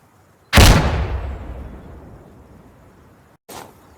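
A frag grenade blows up in Insurgency Sandstorm, one loud, close, booming blast whose rumble trails off over a few seconds, followed by the start of a second, weaker burst.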